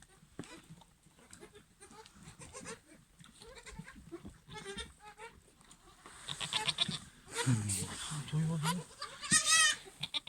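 Goats bleat repeatedly among a flock of sheep and lambs at feeding time, the calls growing louder and more wavering toward the end, with someone talking close by throughout.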